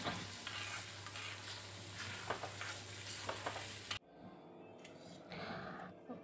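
Dry fish frying in a pan, a steady close hiss and crackle with stirring scrapes, pausing briefly partway through before the sizzle resumes quieter.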